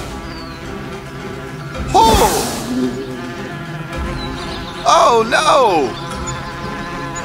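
Bees buzzing in a fairy tale animation, whining swells of insect buzz rising and falling twice over background music, while voices cry out in surprise.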